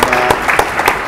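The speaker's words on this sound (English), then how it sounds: "let's give the panel and the respondents a big round of applause" Brief burst of applause from a conference audience at a waterfront plenary session, a few sharp claps rising and falling over about a second, moderately loud and close.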